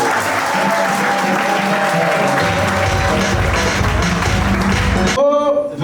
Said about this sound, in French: On applaudit pour Joselito.